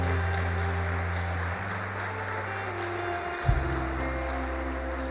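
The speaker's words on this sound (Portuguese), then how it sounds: "Você pode dar uma salva de palmas ao Senhor Jesus?" A church congregation claps for Jesus during a sermon, a steady wash of applause lasting throughout with sustained organ or keyboard tones underneath and a brief bump near the end.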